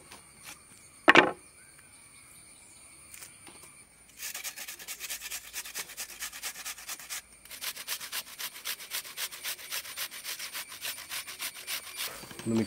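Meat and onion ground together on a traditional grinding stone for kebab rolls, a steady rasping, rubbing scrape repeated in rhythmic strokes, close and fairly quiet, with a sharp knock near the start.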